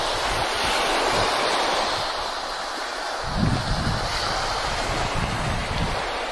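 Ocean waves wash and roar continuously at a shore while sea fishing for sea bream, with wind buffeting the microphone and a heavier surge partway through.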